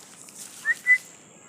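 A pet myna bird gives two short clear whistles in quick succession, close and moderately loud, over a quiet indoor background.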